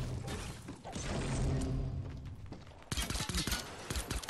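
Rapid bursts of gunfire in the Fortnite video game, set in Tilted Towers, erupt in the second half as a sharp cluster of loud cracks and thuds following a stretch of muffled in-game rumble and movement.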